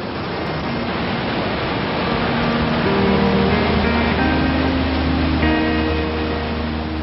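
Niagara Falls roars in winter, heard from below as a dense, steady broadband rush that stays loud and unbroken throughout, with faint tonal hum layered in.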